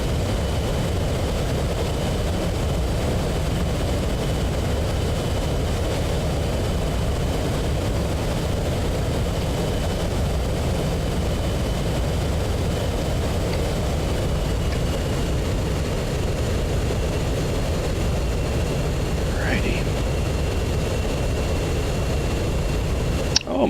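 An F-15C jet engine in the DCS World flight simulator gives off a steady, loud, low roar that holds evenly the whole time, with a faint whine riding on top.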